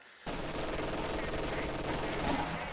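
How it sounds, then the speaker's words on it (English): Dense battlefield fire from a Company of Heroes 2 match, with an MG42 machine gun rattling continuously amid overlapping gunshots, a loud, unbroken wash of combat noise. "MG42 popping even further"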